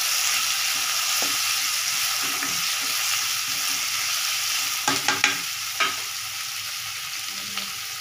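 Masala with slit green chillies fries in a pan for homemade ghugni, a constant sizzle punctuated by a few sharp scraping stirs near the end.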